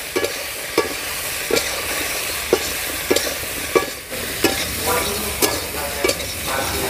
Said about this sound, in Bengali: আর এবারে দিয়ে দেবো কচুরলতিগুলো। এবারে ভালো করে মাছের সঙ্গে ফোড়নের সঙ্গে মিশিয়ে নেব।